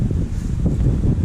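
Gusty outdoor wind rumbles steadily and low against the microphone while a lawn tractor is being prepared for winter storage, with a steady buffeting roar and no speech.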